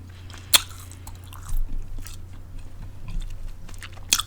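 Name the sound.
chewing gum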